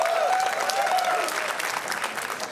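A comedy show crowd claps loudly for guests Swara Oza and Neema Oza, a thick, sustained burst of applause with a brief whistle-like tone near the start, easing slightly toward the end.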